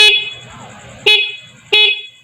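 A motorcycle horn, a rapid-type horn wired on a positive-trigger circuit and sounded with the handlebar horn switch, blares as a steady, close, loud tone, with two sharper, louder honks punching through.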